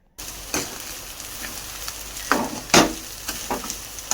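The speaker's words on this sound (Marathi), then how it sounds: "आता ह्या सगळा पुन्हा एकदा चांगलं मिक्स करून यायचं राईस वगैरे" Egg rice being stirred in a hot frying pan, with a steady sizzle and several scraping spatula strokes, two of them louder near the end.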